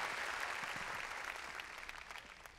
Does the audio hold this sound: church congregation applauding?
yes